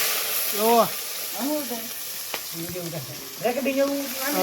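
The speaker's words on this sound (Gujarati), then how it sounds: "આખું જીરું ને ડુંગળી નાખે છે" Whole cumin and onion frying in oil for dal, giving a continuous hissing sizzle beneath a voice that talks over most of the clip.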